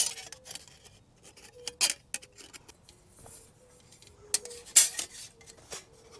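Parts of a small folding titanium grill are handled, giving light metallic clinks, taps and scrapes in irregular bursts, close and fairly quiet, with no voices.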